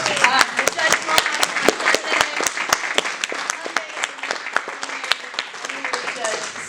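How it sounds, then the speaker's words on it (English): Applause for Alex, a student headed to poetry finals, at a school district board meeting: dense, close clapping with sharp individual hand strikes running the whole stretch, voices and cheering mixed underneath. "So let's cheer him on."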